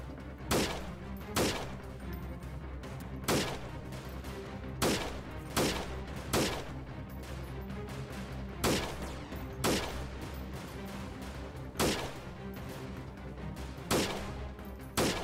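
Gunfire in the video game Freeman Guerrilla Warfare: loud single rifle shots spaced irregularly about a second or two apart, each a sharp crack with a short tail, over a constant game ambience without talk.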